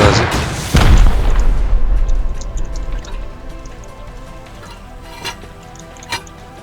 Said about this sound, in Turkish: Atıyorum roket.